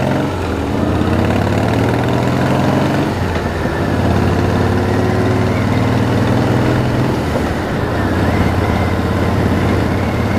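Harley-Davidson motorcycle engine idling in Cyprus, a loud, steady low throbbing rumble close up with a brief shift in tone partway through, no talking.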